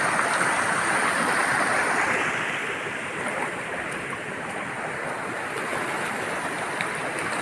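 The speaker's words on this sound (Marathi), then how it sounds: "हा बघा कलकल पाणी वाहून राहिलं आहे." A small stream gurgles steadily through dense misty Satpura forest along a pilgrimage trail, a constant broadband rush of flowing water, near and even, with light wind and no talking.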